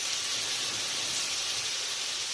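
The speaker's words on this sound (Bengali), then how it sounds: "এখন তেলে দিয়ে দিচ্ছে।" Meat frying in hot oil in a pan while cooking mohrok, a steady loud bright hiss and sizzle that stays even throughout with no pauses.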